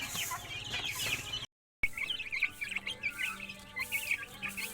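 Backyard chickens clucking and calling at close range, a steady flock chatter that breaks off briefly into silence and then resumes, with small chirps mixed in.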